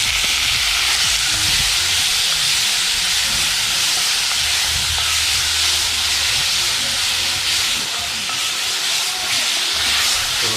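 Shrimp with garlic sauté in a pan for an outdoor-cooked jerk shrimp alfredo, giving a loud, steady, hissing sizzle that runs without a break. A faint low rumble sits underneath.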